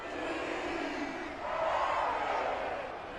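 Home crowd cheering in a football video game, a broad, steady roar of voices that swells louder and brighter partway through and holds at that raised level.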